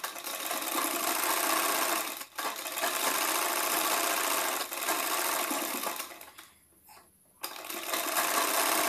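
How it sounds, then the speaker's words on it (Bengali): Sewing machine stitching a blouse seam, a steady, fast mechanical whir that runs continuously and close, with brief pauses and one longer stop near the end before it starts again. "তো এখানে একবার আরেকবার সেলাই করে নিচ্ছি।"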